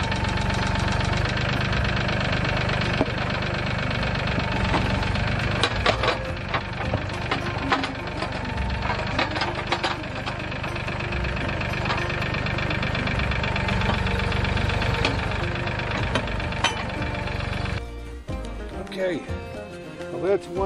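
A loud tractor engine runs steadily with a knocking, rumbling idle, then drops slightly in level near the end.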